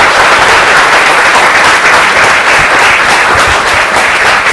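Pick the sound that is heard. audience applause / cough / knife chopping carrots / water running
audience applause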